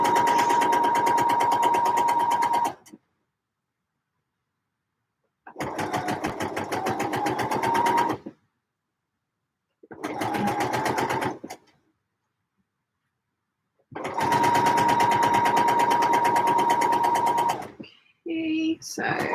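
A sewing machine stitching trousers runs in four separate bursts with silent gaps between them, each a close, steady whirring hum, followed by a short stretch of different sound at the very end.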